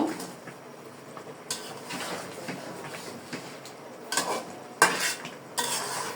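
Large chicken leg pieces stirred in a morog polao pot, with several distinct clanks and scrapes of a metal spoon against the pot over a faint sizzle, the strokes irregular and close.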